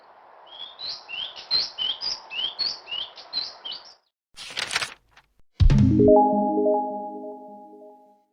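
A myna (beo) from South Sumatra sings a run of sharp, rising whistled chirps, then gives a brief rasping burst and a loud, drawn-out nasal call that fades away, all close and with no voices.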